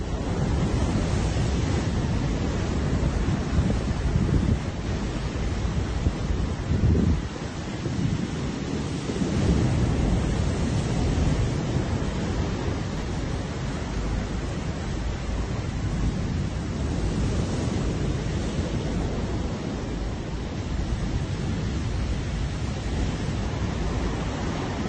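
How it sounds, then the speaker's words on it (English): Thrashing waves of the Black Sea roll onto a beach in Sochi, a loud, continuous roar of surf with gusty wind buffeting the microphone, no voices. "Diana is dragged into the thrashing waves, and in seconds she is out of sight, swallowed up by the treacherous Black Sea"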